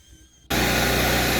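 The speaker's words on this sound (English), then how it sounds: "So now it's like the air tool is working on my side as I'm vacuuming." A quiet background suddenly gives way to a vacuum cleaner switching on inside a Honda CR-V, a loud, steady roaring whine close by.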